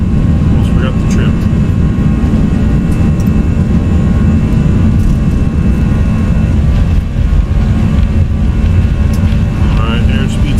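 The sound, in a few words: Airbus A319 jet engines at takeoff thrust, X-Plane 11 video game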